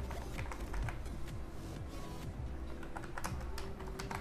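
Rapid, irregular clicking of a computer keyboard as a portfolio title is typed in, close and steady with short pauses between bursts of keystrokes, no voices.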